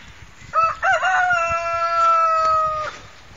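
A child imitates a rooster crowing, a short clucking start followed by a long held, wavering cock-a-doodle-doo, close and fairly loud in a quiet room.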